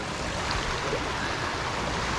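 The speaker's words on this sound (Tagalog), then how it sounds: "Ang sarap maligo dito sa ilog kasi maagos." A fast-flowing river current rushes steadily, a dense continuous roar of water filling the whole scene up close, with no voices.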